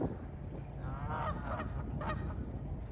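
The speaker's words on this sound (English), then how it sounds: "The goose was just talking up a storm." A few nearby goose honks, three or four short calls over a steady low background hum.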